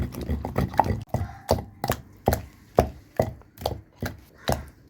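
Steady rhythmic pounding on stone, about two heavy thuds per second, close and loud, as a pestle crushes tomato chutney with chillies, cumin, sesame and curry leaves by hand.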